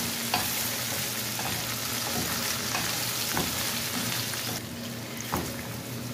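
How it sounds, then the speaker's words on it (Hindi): Minced keema frying in a pan alongside okra, with a dense continuous sizzle and scattered spatula scrapes and clicks, close and steady. "कीमे की भुनाई अब मैंने करनी शुरू कर दी है"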